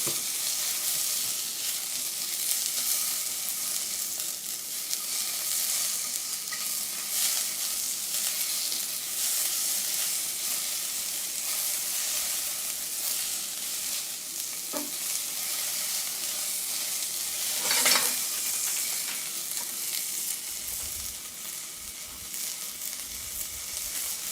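Ginger softening in a hot pan while cooking khao soi, a constant close sizzle and hiss with occasional stirring scrapes and a brief clatter, continuous and without talk.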